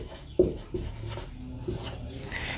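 A pen writes an answer on paper, giving soft scratchy strokes with a sharper tap at the start, close and steady over a faint background hum.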